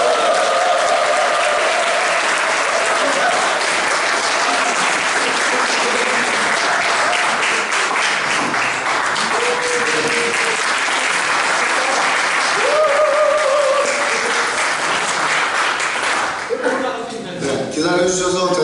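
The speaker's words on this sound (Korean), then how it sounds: "함성과 박수로 시작하도록 하겠습니다" At a book launch event, a crowd applauds loudly for a long stretch with cheers and shouts rising through the clapping. Near the end the noise thins out.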